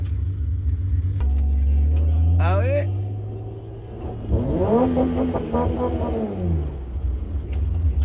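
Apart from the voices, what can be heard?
BMW E30 engine with performance exhaust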